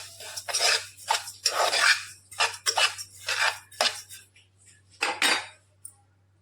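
Sesame seeds for til ladoo being stirred and roasted in a metal pan over a low flame: irregular scraping and rattling strokes of a spoon against the pan, close and crisp, in quick bursts separated by short gaps, under a low steady hum.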